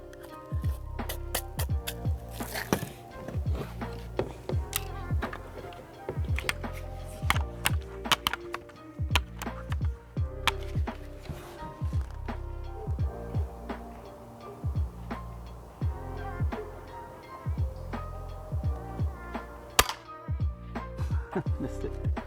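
A Daisy Powerline 880 BB gun is fired at a target several times, each shot a sharp, close snap. Pumping clicks and clatter fill the gaps in an irregular rhythm, and there is no talking.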